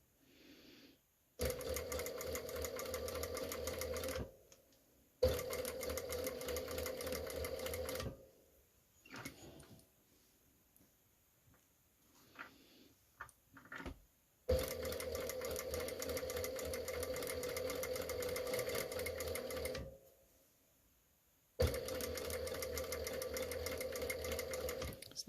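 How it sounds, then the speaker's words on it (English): A sewing machine stitching fabric for a pumpkin pin cushion runs in long steady whirring bursts, stopping and starting several times with quiet handling noises in the pauses, close and clear. "you need to take it to the sewing machine"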